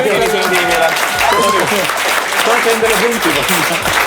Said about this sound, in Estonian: Teeme aplausi esimene punkt.